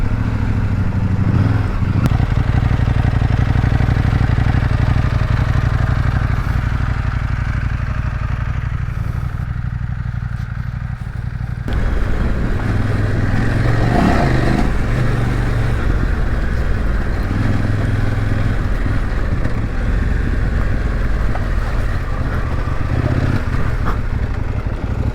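Trail motorcycle riding off-road on forest paths, a steady loud engine drone with throttle swells and rattling from the rough ground, close to the rider throughout, no talking.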